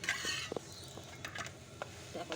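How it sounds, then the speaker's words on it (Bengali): A roti or paratha fries in a hot pan in a home kitchen: a faint, soft sizzle is broken by a few light clinks of a utensil against the pan. "চলো এবার রুটিগুলো ভেজে নেই"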